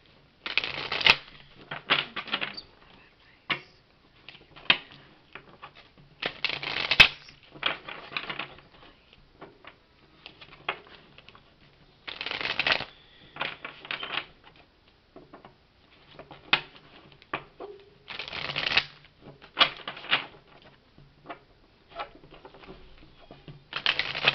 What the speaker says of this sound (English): I'm going to be pulling out one love advice card